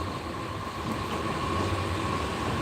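Inside the Bijoy Express passenger train at Mymensingh Junction, a low continuous rumble with a faint steady hum fills the carriage, moderately quiet.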